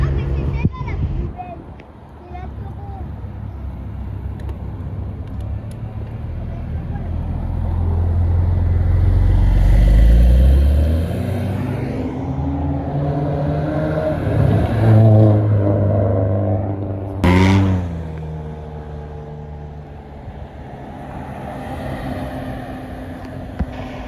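A Porsche GT3 RS drives past on a street in Saint-Tropez, its engine note swelling loudly as it nears and revs, then fading as it moves away over the background noise of other traffic.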